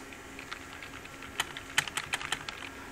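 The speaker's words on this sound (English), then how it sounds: "And then I'll type something on this keyboard." Fingers tap out a quick, irregular burst of keystrokes on a PC computer keyboard, close and crisp over a quiet room hum, with no talking.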